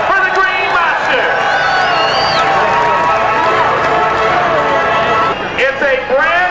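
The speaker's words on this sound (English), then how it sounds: "How about a round of applause for the Green Monster?" A raceway crowd cheers and shouts loudly and continuously for a jet-powered quad, with voices rising over the noise and a brief lull near the end.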